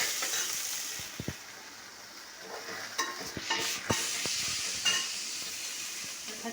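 A homemade spice mix of coriander, cumin and whole spices fries in a pan for masale bhat, with a hissing sizzle under scattered stirring knocks and scrapes, close and moderately loud.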